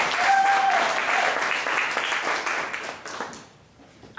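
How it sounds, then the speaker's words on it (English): Audience at a Santa Barbara Old Spanish Days Fiesta kickoff press conference applauds in a dense, steady burst that thins and fades away near the end. "Let's give us a round of applause."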